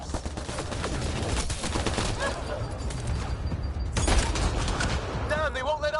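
Dense, sustained video-game gunfire in Mass Effect Andromeda, overlapping bursts of automatic fire and explosions filling the clip at loud, close range, with a voice speaking in the middle of the action.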